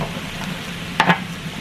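Red chiles and garlic roasting for a molcajete chile rojo sauce make a low, steady crackle and sizzle close by, with two quick louder clacks of the chiles being moved partway through.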